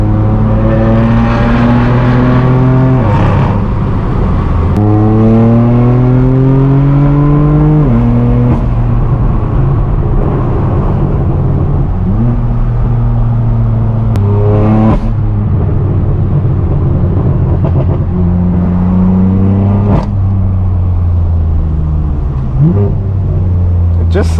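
Straight-piped BMW M4 F82 driving at sunset in Southern California, its loud exhaust droning and repeatedly rising in pitch through gear pulls, then dropping on shifts, heard close from inside the car.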